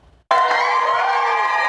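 Hospital staff at Northeast Baptist Hospital, several hundred strong, send off a discharged COVID-19 patient with a sudden burst of loud cheering and shouts that starts abruptly and holds steady throughout.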